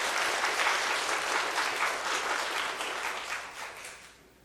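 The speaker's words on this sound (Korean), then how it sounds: "환영의 박수 한번 부탁드립니다" Church congregation at a Korean testimony service applauds in welcome, a dense, steady wash of many hands clapping together that holds strong for several seconds before thinning and fading out near the end.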